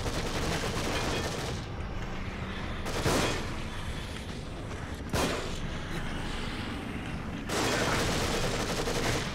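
Heavy gunfire in the survival horror game The Evil Within, a loud, unbroken roar of shooting with several sharper bursts standing out above the din.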